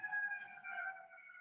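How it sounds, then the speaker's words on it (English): A wailing emergency siren sounds in the distance, its tone holding steady and wavering slightly, faint and alone. "Sorry about the sirens behind me."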